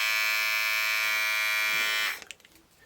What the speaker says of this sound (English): As you can see from that initial noise, it's about the same noise as a standard shaver